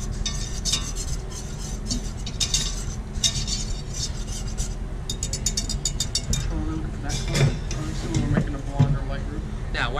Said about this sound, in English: So, get it all mixed up, just like when we made our roux.